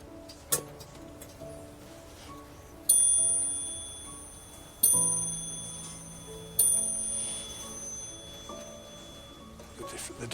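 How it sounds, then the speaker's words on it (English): An 18th-century French clock strikes its chime in four clear, ringing bell blows spaced about two seconds apart, each decaying slowly over a quiet background hum. "Does it chime? It does."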